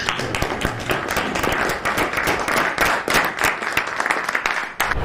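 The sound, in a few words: applause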